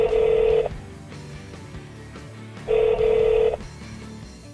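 Lexus Bluetooth phone system in a 2013 Lexus with navigation, giving two loud electronic ring tones, each lasting about half a second and separated by a brief quiet pause, heard alone without talk.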